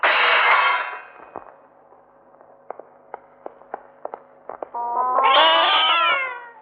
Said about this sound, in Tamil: பூனை சார்